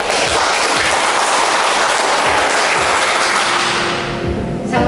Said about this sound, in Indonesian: Sekali lagi kita beri tepuk tangan kepada